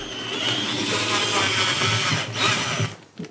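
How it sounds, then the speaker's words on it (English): A drill bit re-drills glue out of the bridge pin holes on a Gibson J-50 acoustic guitar, a steady close whirring grind that pulses slightly before stopping. "I've just got a drill bit and I'm basically just re-drilling these"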